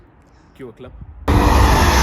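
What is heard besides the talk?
BMW E46 M3 engine with decat X-pipe exhaust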